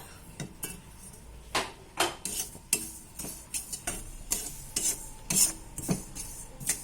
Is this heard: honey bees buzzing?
no